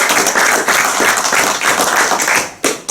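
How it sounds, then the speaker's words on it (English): A crowd at a local sports gathering applauds, a dense, loud wash of clapping that runs steadily and then cuts off briefly near the end before picking up again. "if you can give me 10 claps just for coming out"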